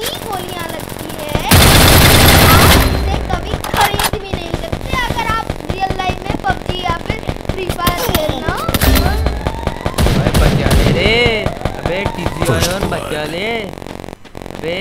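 Rapid bursts of gunfire in Free Fire, sharp automatic volleys and explosive blasts, with a voice talking over much of the action.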